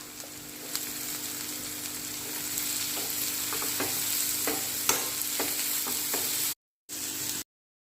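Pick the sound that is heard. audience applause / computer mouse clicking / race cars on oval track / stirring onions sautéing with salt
stirring onions sautéing with salt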